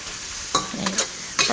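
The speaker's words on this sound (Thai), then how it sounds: "เดี๋ยวเราจะผัดให้กุ้ง สุกเลยนะคะ" Shrimp with garlic stir-fried in hot oil in a pan, with a steady sizzle under a few sharp scraping bursts of the utensil moving the food; close and fairly loud, no speech.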